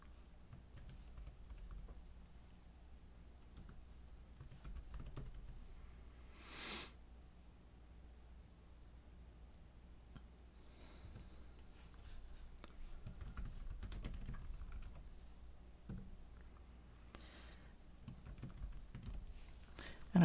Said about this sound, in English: I'm going to type their names in individually.